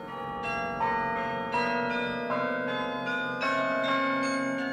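Carillon bells ring out a slow melodic sequence, each struck note sounding with bright overtones and long sustained decay that overlaps the next, steady and moderately loud with no talk.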